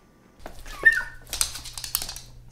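A small dog grows excited at lunchtime indoors, letting out a high whine followed by a run of quick clicking and scrabbling sounds close to the microphone, with a low steady hum underneath.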